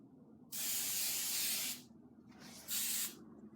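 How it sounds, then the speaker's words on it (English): Hairspray hisses onto styled hair in two bursts, a long close spray of over a second followed by a shorter one, with quiet room tone between them. "And the last step, hairspray."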